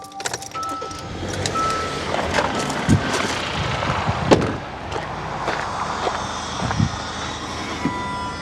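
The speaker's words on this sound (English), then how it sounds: "Okay, so I guess I gotta turn the car on." A parked SUV's engine starts and settles into a low, steady idle, with scattered clicks and small knocks from inside the cabin over the running motor.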